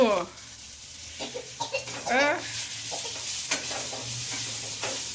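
Tempering spices crackle and sizzle in hot oil in a pan, a steady frying hiss running through the clip while voices talk nearby.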